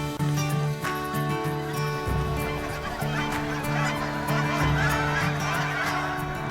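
A flock of geese near a field honks repeatedly in loud, nasal calls that overlap and repeat in a busy rhythm over a steady outdoor background.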